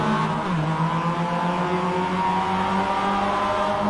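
A race car engine revs hard and climbs in pitch as it launches off the start, loud and continuous with steady engine tones throughout.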